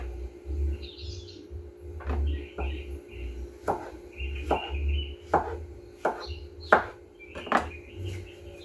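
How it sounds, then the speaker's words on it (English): A kitchen knife chops through a green squash on a cutting board, trimming off its ends in roughly ten sharp, close cutting strokes, irregularly spaced, with faint bird chirps in the background. "It's green squash. Always cut the ends off."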